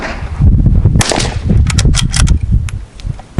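A single sharp crack from a short-stroke, right-handed bolt-action rifle fired left-handed at an outdoor target, loud and close, followed by a brief echoing tail.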